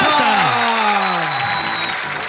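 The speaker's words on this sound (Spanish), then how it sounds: "Por favor, denle un fuerte aplauso a Yera" A live comedy show crowd applauds loudly and continuously for a comedian, with cheering and sliding whistles rising above the clapping.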